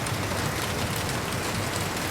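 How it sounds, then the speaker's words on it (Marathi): Steady rain pours in Mumbai, a dense, even hiss of falling water with no pauses and no voices. "पाऊस बघा."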